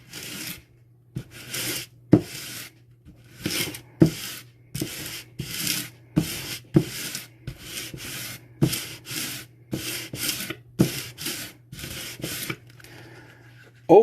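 Cork leather is scraped repeatedly in an abrasion test, with about fifteen sharp, evenly spaced rasping strokes separated by brief silences, close and fairly loud, with no talk.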